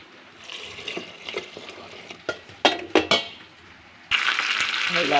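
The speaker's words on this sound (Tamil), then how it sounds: "தேவையான உப்பு விட்டு தண்ணி ஊற்றிக்கலாம்" Utensils clink and scrape against a cooking pot of sambar with drumstick, brinjal and mango, then a steady rush of water pours in for the last second or so.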